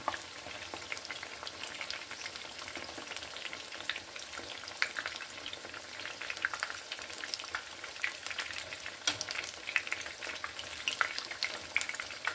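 Anchovy ukoy fritters fry in hot oil with a steady, bright sizzle and scattered crackling pops, fairly quiet and close, with no talk over it.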